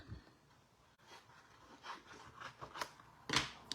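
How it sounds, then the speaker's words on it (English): Scissors snip a paper craft stamp image for Christmas card making, a few faint, quick close cuts with quiet handling noise in between. "what I'm going to do is snip that off"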